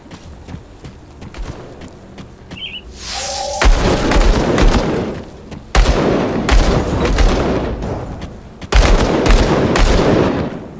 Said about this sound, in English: Shooting from that house.